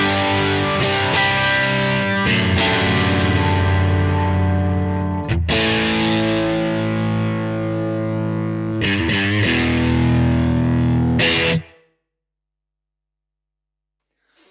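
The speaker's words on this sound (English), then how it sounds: "And let's see what happens if I turn an overdrive on." Electric guitar played through an overdrive setting on a Neural DSP Nano Cortex modeler with a little reverb, a loud, sustained distorted strummed passage with a few brief breaks, ringing out and stopping near the end with no talk.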